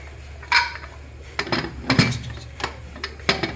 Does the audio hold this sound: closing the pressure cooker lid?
yes